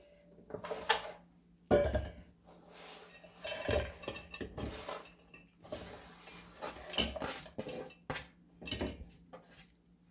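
A quince is cut into thin strips for quince tea, with sharp knife chops and clatter against a board in irregular bursts, close and fairly quiet, with small kitchen handling noises between strokes.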